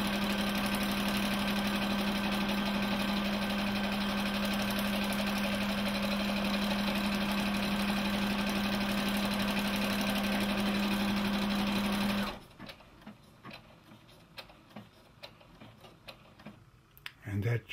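Brother PB6800 combo machine sewing an automatic buttonhole for a large coat button, a loud steady mechanical whir with rapid ticking stitches that runs continuously, then stops abruptly, leaving faint clicks and small handling noises.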